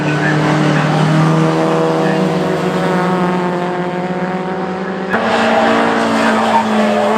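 Classic sports racing cars roar past at Oulton Park, engines droning loud and sustained with shifting pitch as cars pass, while a commentator talks over the sound.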